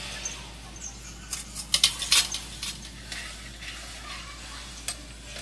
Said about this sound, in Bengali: এবারে আমি বড়াগুলো আস্তে আস্তে করে সবকটা দিয়ে দেব।